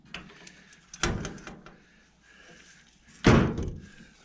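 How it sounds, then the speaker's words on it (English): A door on a 1976 Apache Ramada camper being shut: a first solid thunk, a quieter rattle, then a louder firm slam near the end, close and without voices. "Let me close this door back properly."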